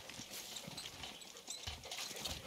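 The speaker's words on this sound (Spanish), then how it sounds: "Aquí un caballo." Horse hooves clip-clop in the Far Cry 6 video game, a quick patter of hoofbeats over steady ambient game noise, moderately close and fairly faint.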